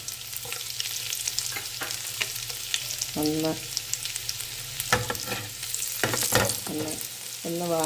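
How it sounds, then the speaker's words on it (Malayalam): Finely chopped garlic fries in oil with a steady sizzle, broken by the scrape and clatter of stirring utensils against the pan, close and continuous with no voices. "എന്നിട്ട് അതിലേക്ക് നമ്മൾ ഇടുന്നത് വളരെ ചെറുതായി കട്ട് ചെയ്ത് വെച്ചേക്കുന്ന വെളുത്തുള്ളിയാണ്"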